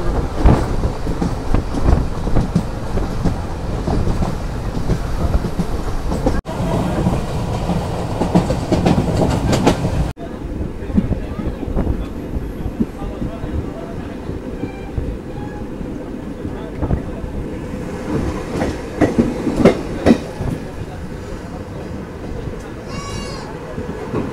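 A passenger train on the Agartala to Silchar line rolls steadily through areca palm country, a continuous heavy rumble with faint wheel clatter, broken by two abrupt shifts in tone partway through.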